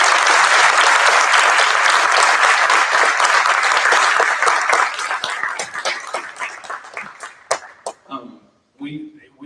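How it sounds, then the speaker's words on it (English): A school audience applauds high school concert band students with loud, dense clapping that thins out into scattered individual claps and fades near the end, where a voice begins. "how about another round of applause for these students?"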